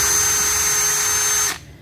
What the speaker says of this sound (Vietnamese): Còn chế độ khoan búa là để anh em khoan tường bê tông mũi 6 mũi 8